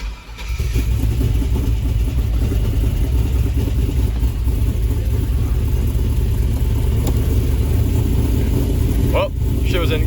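A rebuilt 5.3 iron-block V8 with a Holley fires up within a second and settles into a loud, steady, close idle with a rough mechanical rumble; a brief voice cuts in near the end.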